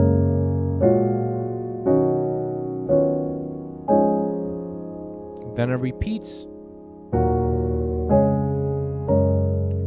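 Gospel jazz piano chords for a song, struck one at a time in a slow steady sequence of sustained voicings, with a short spoken line partway through.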